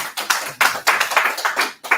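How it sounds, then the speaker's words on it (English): Hands clap at a wealth summit in a quick, uneven run of about eight sharp claps, close and fairly loud, sounding like a few people rather than a full room. "Please give us a round of applause"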